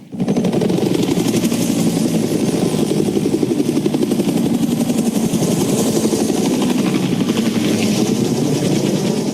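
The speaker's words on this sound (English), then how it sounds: "we're shooting telephoto shots of the helicopters flying" Steady, loud thudding of several helicopters' rotors flying past, with a continuous engine drone, sustained throughout without any voices.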